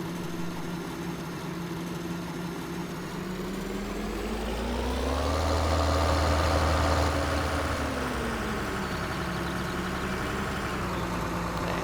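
Tractor engine idling in Farming Simulator 2013, a steady low diesel drone that swells in pitch and loudness midway as if revved, then settles back to idle, alone without talk.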